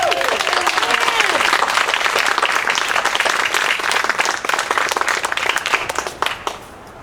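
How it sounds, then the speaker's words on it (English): Energetic audience clapping greets an honoree walking up, a dense crowd applause with brief voices at the start, fading into scattered individual claps near the end. "last big round of applause for Pam"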